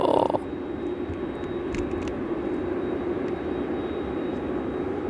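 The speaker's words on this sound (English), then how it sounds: "Ethan Siddle, Qatar lining up" A Qatar Airways jet lines up on the runway at Brisbane Airport at night, its engines giving a steady, broad roar at a moderate distance, with a brief faint voice at the very start.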